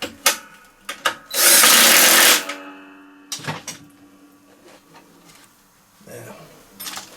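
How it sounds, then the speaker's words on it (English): A spanner tightens a 14mm nut at the back of a Hayter lawnmower, giving sharp metallic clicks and clinks, one loud sustained rasping burst, then more scattered ratcheting taps close by. "14mm spanner to lock it in position at the back"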